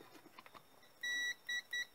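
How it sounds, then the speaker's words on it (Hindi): A multimeter set to buzzer continuity mode sounds its tone in three beeps, one long and two shorter, clear and alone after quiet handling noise, while the probes of a headlamp wire loom switch are tested. "यहाँ पे बजर बीप कर रहा है"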